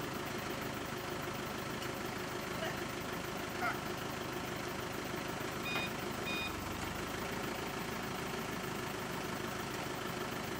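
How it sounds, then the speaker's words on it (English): Land Rover Discovery engine idling steadily with a low rumble throughout, while a reversing beeper chirps faintly near the middle and soft background murmur mixes in. "David's driving the Discovery. It's about to start."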